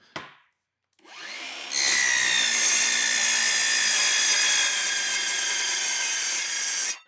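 A power saw starts up and makes a test cut in steel for a box-making jig, giving a loud, sustained high metallic whine that runs steadily for several seconds after a brief spin-up.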